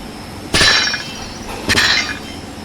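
Two sharp metallic snaps of a bolt cutter biting through a lock in a video game, each a bright crack with a short ringing tail, about a second apart, close and fairly loud over a low background hum.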